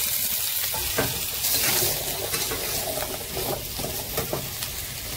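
Potatoes fry in hot oil seasoned with black cumin, a dense, loud, continuous sizzle and crackle with occasional stirring scrapes.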